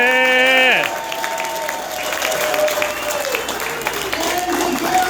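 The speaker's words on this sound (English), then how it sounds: "Another great round of applause for Michael" Applause from an audience at an annual Veterans For Peace convention in Spokane, moderate and continuous, following a brief musical or tonal sound at the start.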